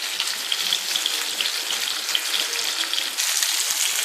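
Fish fries in a pan over a medium flame with a continuous close hiss and crackle that stays steady throughout and grows slightly louder toward the end.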